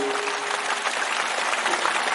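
Clapping carries on steadily from a crowd gathered for a Bhagavat Katha celebrating Rukmini and Krishna's wedding, a continuous, even patter of many hands throughout the short stretch, with a faint held tone underneath.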